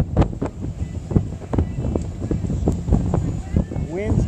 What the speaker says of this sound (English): Winds gusting up to 60.